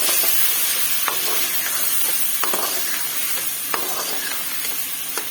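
Tomatoes being stirred in a hot pan while making tinda gosht, a steady close sizzle and hiss with soft spoon scrapes scattered through it, no voices.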